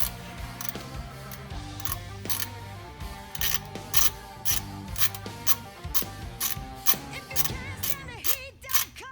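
A ratchet wrench turns a 13 mm socket under a Widebody Challenger Scat Pack during an oil change, giving steady close-up mechanical clicking and rattling throughout, with occasional louder metallic knocks and no talking.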